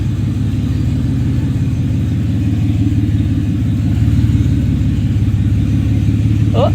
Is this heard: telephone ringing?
no